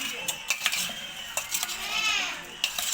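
A spoon mixes jujube pickle with oil and spices in a bowl, giving a few sharp metallic clinks and scrapes close by, with wet mixing sounds between them.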